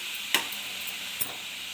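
Amaranth leaves fry in a pan with a continuous soft sizzling hiss, broken by two quick spatula clicks against the pan.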